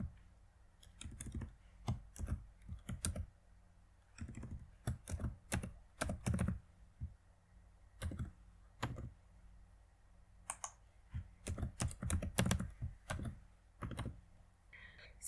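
Someone types a password on a computer keyboard in short bursts of quick key clicks separated by pauses, close but quiet, with no talking.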